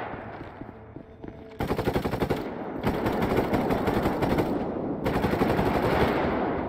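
Automatic machine gun fire in GTA V during a zombie realism mode fight against mercenaries, long loud sustained bursts that pause briefly and then resume, with no one speaking.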